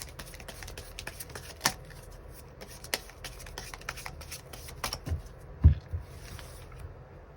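Tarot cards are shuffled and drawn by hand in a steady papery riffle and slide of cards, with soft taps and handling noises, close and quiet throughout.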